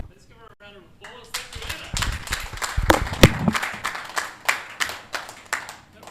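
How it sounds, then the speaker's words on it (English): Conference audience clapping after a talk, scattered claps that build into rhythmic applause, with a voice speaking over it at the start. "Let's give her a round of applause."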